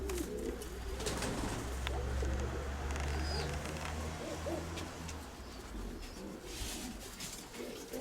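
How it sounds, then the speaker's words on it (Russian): Pigeons coo steadily in a dovecote, with layered low cooing calls running throughout alongside faint chirps and rustling close by. "Это Виталькин голубь."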